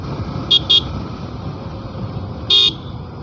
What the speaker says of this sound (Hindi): हॉर्न दे रहा हूँ